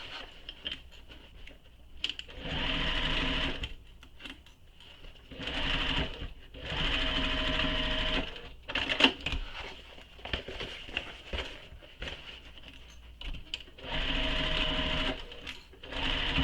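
A sewing machine stitches lining seams at the pattern's seam allowance in repeated bursts of a few seconds each, with short pauses between runs.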